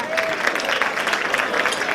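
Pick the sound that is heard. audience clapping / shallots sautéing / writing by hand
audience clapping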